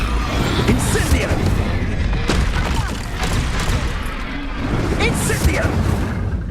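Fire spell casting in Hogwarts Legacy combat: a dense, continuous stream of loud magical bursts, booms and crackling impacts, with voices shouting throughout.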